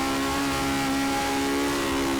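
A Lotus 49 with a 3-litre naturally aspirated Cosworth V8 holds near redline in the Project Cars video game, a loud, steady, buzzing engine howl with no talk.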